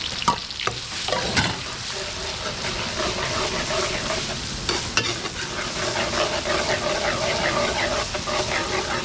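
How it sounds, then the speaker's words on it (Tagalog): Garlic, onion and ginger sautéing in a pan for laing, a steady loud sizzle with scraping stirring strokes throughout and no voices. "So lutuin ko lang yung mga bawang, sibuyas sa luya para lumabas yung aroma nila."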